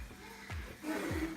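Two quick, breathy puffs of someone blowing air at flies indoors, fairly faint and close, each a short whooshing gust.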